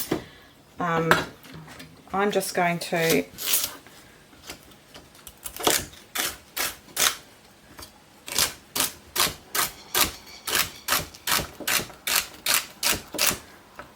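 A kitchen knife dices vegetables such as zucchini, cucumber and yams on a cutting board, fast regular sharp chops in a steady rhythm, close and clear, with brief talk near the start.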